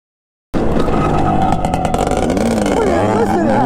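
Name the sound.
dirt bike engine revving on motocross track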